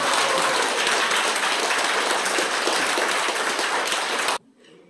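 An audience claps in sustained, dense applause at a 2023 Seoul master artists' arts festival, the loud clapping holding steady before cutting off abruptly into near silence.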